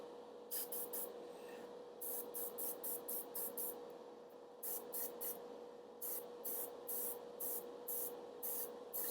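An airbrush sprays primer onto miniatures in short repeated bursts of soft hiss, close and quiet, separated by brief pauses over a faint steady compressor hum.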